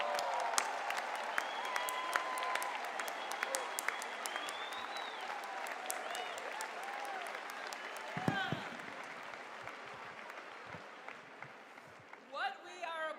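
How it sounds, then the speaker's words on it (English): An audience at a Maccabi Games opening ceremony gives host families a long round of applause, with scattered cheers and voices mixed in. The clapping is steady throughout and then thins out near the end. "All our amazing, amazing host families, please stand up and we applaud you."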